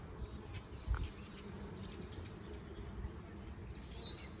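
Honeybees buzzing on a heavy honey frame pulled from a hive: a faint, continuous low hum with a close, brief thump near the start and light outdoor chirps in the background.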